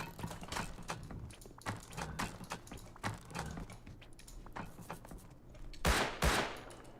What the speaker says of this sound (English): Who's shooting in here?